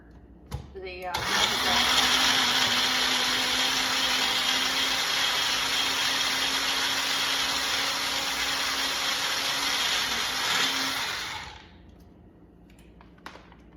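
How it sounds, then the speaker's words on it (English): A kitchen blender whirs through low-carb pancake batter, starting abruptly and running at a steady loud pitch for about ten seconds before cutting off and winding down, with no talk over it. "so you put all that in the blender"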